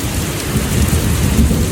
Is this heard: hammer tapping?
no